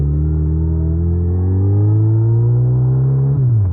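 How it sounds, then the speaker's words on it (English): A motorcycle engine revs in neutral at an intersection on a winter ride in Michigan, a loud steady drone that climbs slowly in pitch, then drops sharply as the throttle closes. "Gotta love it when you rev it at the intersection like a moron."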